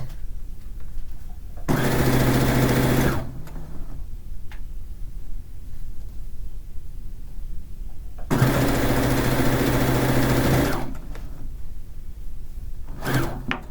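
A sewing machine runs over a fish-pattern quilt in two close, loud bursts of a second or two each, separated by quieter stretches of background noise, with a brief third burst at the end.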